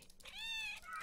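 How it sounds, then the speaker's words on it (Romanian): A single short cat meow from a video game, rising and falling over about a second, fairly clear and alone. "Face miau!"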